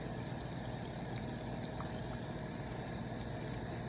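Continuous rushing water, like a faucet running steadily into a sink, fairly quiet with no other sounds.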